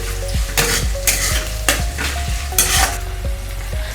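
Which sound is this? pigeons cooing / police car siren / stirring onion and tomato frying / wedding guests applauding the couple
stirring onion and tomato frying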